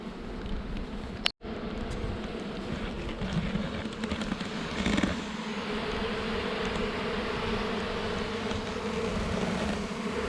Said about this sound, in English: Just wait till you got a cloud of bees around you, you can't even hear nothing.